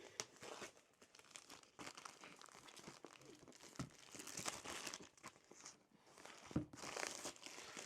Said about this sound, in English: I think I'll tear the rest now.